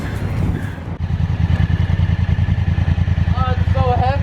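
A 2016 Honda Africa Twin motorcycle engine runs loud and near with a pulsing, throbbing exhaust note, rising slightly toward the end; a voice talks briefly at the start.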